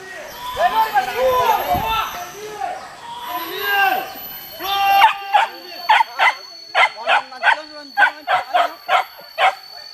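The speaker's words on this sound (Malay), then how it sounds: "anjing." Hunting dogs chase a wild boar, barking and yelping close by, first in a tangled overlapping chorus and then in a rapid run of regular sharp barks, with voices talking in the background.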